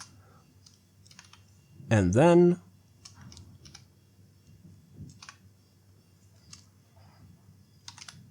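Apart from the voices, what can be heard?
typing code on a computer keyboard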